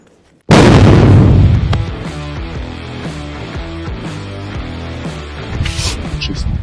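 An F-1 hand grenade detonates in a ballistic protection test of U-Win armor, a single sudden loud blast followed by a long, heavy rumbling decay and scattered debris noise.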